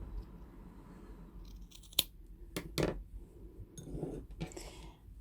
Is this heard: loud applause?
no